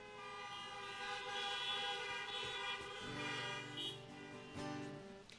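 Car horns honk from a crowd of parked cars at an outdoor drive-in Mass, a layered mix of faint, overlapping toots and longer blasts heard from a distance.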